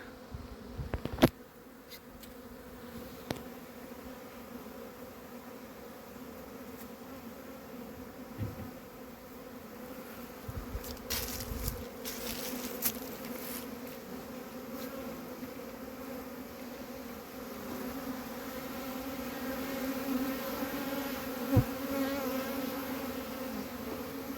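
Honeybees fly around the hives of an apiary on a mild February day as foragers return with pollen, a steady, dense buzzing swarm that holds at moderate loudness for the whole stretch with no voices.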